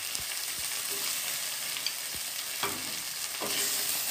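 Roselle (ambadi) flowers dry-roast in a pan over low gas for jam, giving a soft steady hiss with occasional scraping stirs and light taps, no voices.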